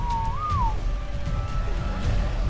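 A short rising-and-falling whistle tone from the whistle command in Ark: Survival Evolved, played once over a steady game backdrop of low rumble.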